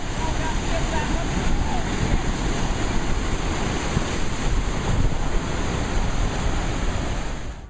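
Ocean waves surging around swimmers caught in rough water, a loud constant roar of surf mixed with heavy wind buffeting the microphone, steady and close for the whole stretch.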